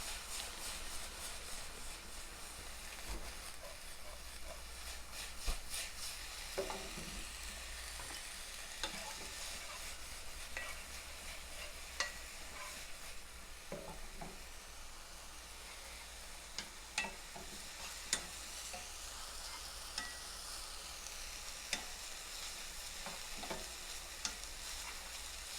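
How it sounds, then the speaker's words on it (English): Chow mein noodles tossed and stirred in a pan over a high flame, with a steady close sizzle of frying and repeated scraping, clattering clicks of a utensil against the pan throughout, with no talking. "So you have to keep the stove in the high flame and keep tossing it."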